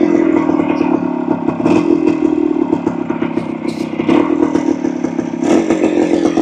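A restored 1975 Kawasaki F11B 250 motorcycle runs loud and close, its engine droning steadily with repeated throttle blips and some mechanical clatter throughout.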